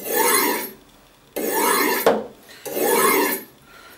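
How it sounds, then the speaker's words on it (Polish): A knife drawn across a Taidea T0843C ceramic sharpener in three long, even rasping strokes, close and clear, with a brief click between the second and third pass. "ustawiamy sobie żądany kąt i ostrzymy, tak jak przy każdej innej ostrzałce, w tą stronę, w którą kroimy"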